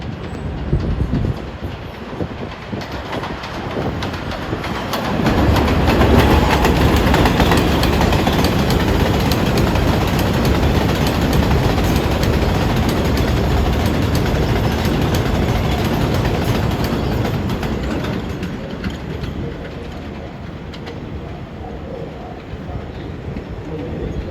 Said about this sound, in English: the expresses are starting to run like crazy. Here's an eastbound.